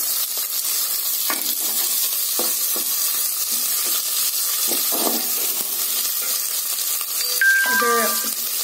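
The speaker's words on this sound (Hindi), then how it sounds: "एबे कटा हितरा प्याज को दे देबा।" Chopped onion fries in a pan with garlic and chilli, a bright continuous close sizzle with occasional stirring taps, and a brief voice near the end.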